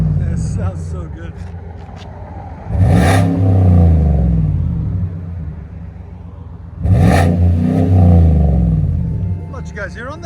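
A 2022 Chevy Silverado 2500 HD with a 6.6L V8, a Flowmaster Super 44 muffler and a 5-inch tip revs twice. Each deep, throaty rumble swells and then falls back to idle, with people talking nearby.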